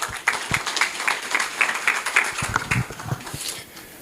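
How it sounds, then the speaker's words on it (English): Audience clapping at the Law Society of Kenya annual conference's Public Interest Litigation Forum, a brief scattered round of hand claps in a hall that thins out, with some voices underneath. "That is not how you clap for the president of the Law Society of Kenya."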